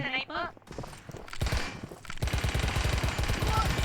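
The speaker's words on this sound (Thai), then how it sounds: "เออใครยิงอ่ะ" Bursts of rapid gunfire in the Mini World Royale video game, repeated rattling shots growing denser toward the end, with a voice speaking over the opening moments.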